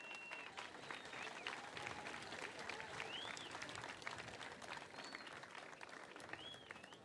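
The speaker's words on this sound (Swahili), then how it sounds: "Nataka tuamuke tupigie makofi Bishop John C. Debrio." An audience gives a bishop steady, dense applause that holds at an even level throughout, with faint bird chirps heard above the clapping.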